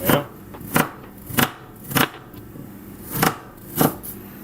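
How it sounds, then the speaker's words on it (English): A knife roughly chops an onion on a cutting board, landing about seven crisp, evenly spaced thuds. "I much more roughly chop my onion than I do the garlic"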